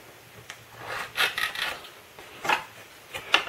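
A Canon 77D camera box being opened, with soft close rubbing, scraping and sliding of cardboard packaging in a few short bursts and no talk.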